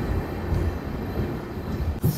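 A new sleeper-class train rumbles steadily through tunnels, a continuous low roar of wheels and wind heard from inside the carriage, with a brief thump near the end.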